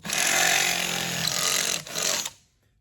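A power drill bores holes for racecar cam lock fasteners, a loud steady whine that runs close and alone for about two seconds, briefly dips, then winds down into silence.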